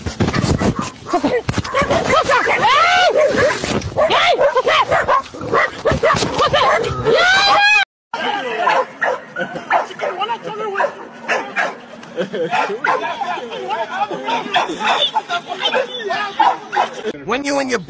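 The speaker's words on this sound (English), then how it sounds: "When you and your boyfriend get chased by a dog." A dog chasing people barks and yips excitedly close by, in rapid, overlapping bursts. People shout and laugh loudly throughout, and the recording cuts out briefly in the middle.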